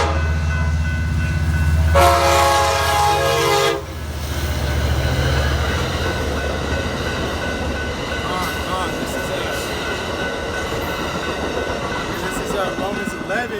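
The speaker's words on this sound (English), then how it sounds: "Wait after this train goes by." A train rumbles past close by, its horn blaring loudly in a long sustained blast before the steady rolling clatter of the cars continues to the end.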